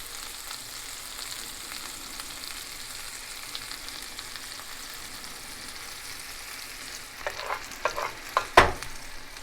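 Garlic, lemon juice and honey sizzle softly in a pan alongside salmon, a low steady frying hiss with a few louder scraping stirs and clatters toward the end.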